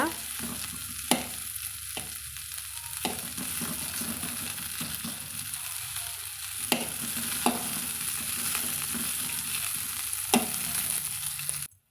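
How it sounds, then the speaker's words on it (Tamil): Okra sautéing over medium heat in a pan for sambar gives a steady, fairly loud sizzle, broken by scraping stirs and occasional sharp spoon knocks against the pan, with no talking. "நல்லா மிதமான தீயில் வச்சு இது போல் நம்ம கலந்துட்டோம்னா நம்மளுக்கு வெண்டங்காய் அந்த வலுவழுப்பெல்லாம் இல்லாமல் நல்லா வதங்கி வருங்க"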